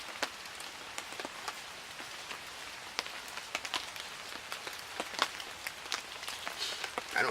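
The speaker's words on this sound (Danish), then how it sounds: "Det er nu lidt hyggeligt, selvom det regner sådan." Steady rain pattering on a tent while camping, a dense field of soft taps and sharper individual drops, fairly quiet and even throughout with no voices.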